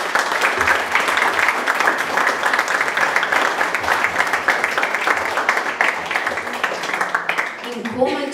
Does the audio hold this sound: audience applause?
yes